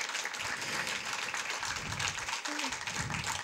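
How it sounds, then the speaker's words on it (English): A crowd at an award show claps in a steady round of applause, dense and continuous throughout, with a faint voice briefly audible beneath it. "Let's have a round of applause for everybody."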